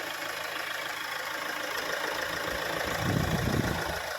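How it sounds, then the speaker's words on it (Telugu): A 2015 Mahindra XUV500 W8 diesel engine idles, giving a low, even, continuous hum with a slightly thicker rumble near the end; fairly quiet and steady, with no talking. "ఇంజన్ కూడా చాలా అంటే చాలా స్మూత్గా ఉందండి"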